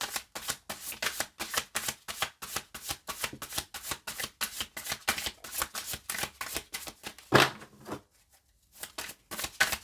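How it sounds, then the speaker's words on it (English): Tarot cards are shuffled in a rapid run of crisp riffling flicks, then a deck tap, a brief pause and a card laid down, close and fairly quiet. "Let's chuck some cards down."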